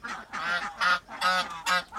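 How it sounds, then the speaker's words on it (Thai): A flock of ducks quacks and honks in loud, overlapping bursts nearby on an azolla duck-rice farm in Mae Sai, Chiang Rai, Thailand, several calls in quick succession. "อันนี้เป็นพระเอกของที่นี่นะครับ ฝูงเป็ด"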